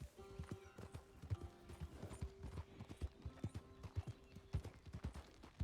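Horse hooves clip-clop steadily in Red Dead Redemption 2, a rhythmic trotting with a brief whinny, fairly quiet and close, no talk over it.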